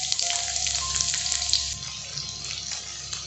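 Onions frying in a pan for chicken chowmein give off a steady close sizzle and crackle with some watery hiss, continuous throughout with no talking.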